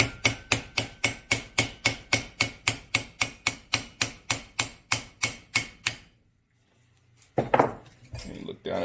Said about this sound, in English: we're just going to give it a little tap. Just a little tap. It's a brass hammer.